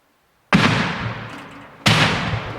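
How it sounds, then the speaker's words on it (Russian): Two loud, close explosions of automatic grenade launcher shells about a second apart, each a sharp blast trailing into a long rumbling decay, with silence before the first, during fighting in Marinka, Donbas. "Когда мы услышали приближение разрывов снарядов АГС, мы зашли в подвал, чтобы укрыться."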